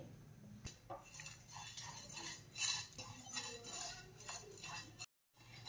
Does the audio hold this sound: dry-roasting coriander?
yes